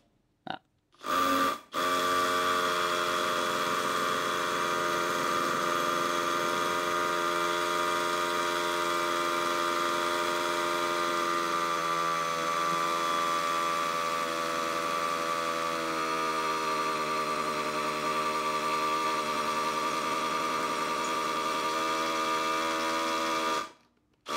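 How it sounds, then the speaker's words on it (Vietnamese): A Milwaukee M12 cordless hammer drill runs steadily for over twenty seconds after a brief start-stop, a loud, buzzing whine with a rattling vibration, close up. "bây giờ thì khoan thử xem là nó có rung như tôi nghĩ hay không"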